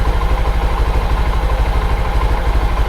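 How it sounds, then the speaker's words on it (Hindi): A motorcycle engine idles close by after a mileage adjustment, a loud, steady, rhythmic low thrum with even firing pulses and no variation in speed. "अभी देखो 4 चूड़ी खोलने के बाद बाइक का जो इंजन का साउंड है स्मूथ हो गया, बिल्कुल रिदम में।"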